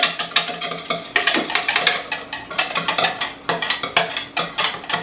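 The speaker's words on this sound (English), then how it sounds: "I'm going to whisk this together real quick, our liquids" Liquid muffin ingredients are whisked together in a bowl, giving a fast, steady series of bright metallic scraping and clicking strokes with a regular rhythm, close and fairly loud, with no talking.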